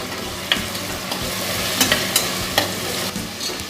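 Peas, capsicum and carrot are stirred into soya chunk biryani in a hot pan, a steady sizzle of frying with scattered scraping clicks of a spoon against the pan, close and without talk.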